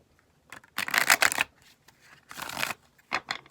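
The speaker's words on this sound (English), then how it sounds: "let's finish shuffling the cards." Several bursts of tarot cards being riffled and shuffled, close and crisp, with short pauses between rounds.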